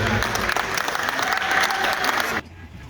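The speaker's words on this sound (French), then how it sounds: "Applaudis pour le Seigneur." A church congregation applauds in praise of the Lord at a deliverance service, a dense, loud wash of clapping that runs steadily for over two seconds, then cuts off abruptly into quiet.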